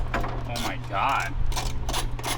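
A ratchet wrench works the 12 mm hood bolts loose on a car, giving short bursts of close, quick clicking with brief pauses between strokes.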